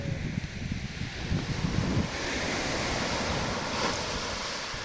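Surf rolls and washes steadily against the shore, with a broad hiss of breaking waves and some wind rumble, continuous throughout.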